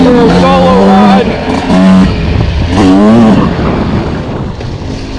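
A 2026 Yamaha YZ125X dirt bike on a rocky trail ride, its engine revving in short bursts and rising and falling in pitch, close and loud, with someone talking over it.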